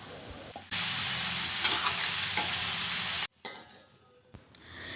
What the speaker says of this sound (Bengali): এভাবে অল্প অল্প করে জল দিয়ে ভালো করে মশলাটাকে কষিয়ে নিতে হবে।